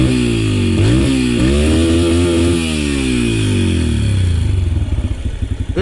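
Small kid-sized dirt bike engine revving up and down close by, a buzzy two-stroke-like drone rising and falling in pitch several times before settling into a choppy, pulsing idle at the end.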